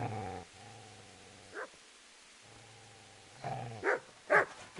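Dog growling in Kingdom Come: Deliverance, low sustained growls in two long stretches separated by a pause, followed by a few sharper yips and barks near the end, fairly quiet overall.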